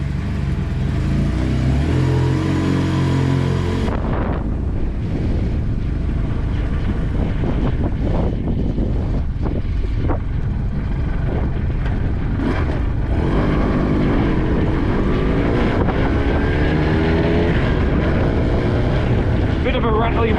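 A 2023 Braap Moto 4 motorcycle ridden on the road, its engine droning and rising under heavy wind buffeting at the helmet, loud and continuous while the rider talks over it.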